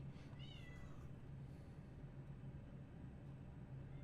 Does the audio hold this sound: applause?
no